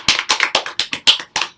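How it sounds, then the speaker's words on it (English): Short burst of hand clapping from a small audience after a student presentation, about seven distinct claps in an irregular rhythm, close and fairly loud, then stopping. "Let's give her a round of applause."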